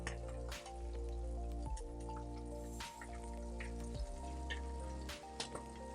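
Chicken skin sears in a hot pan, giving a light crackling sizzle with scattered pops over a low steady hum, and a few louder knocks at intervals, fairly quiet with no voices.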